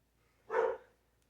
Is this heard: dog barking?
yes